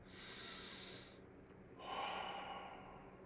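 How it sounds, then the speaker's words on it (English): A slow, deep breath: a long airy inhale, a brief pause, then a soft sustained exhale, close and quiet. "Take a slow, deep breath."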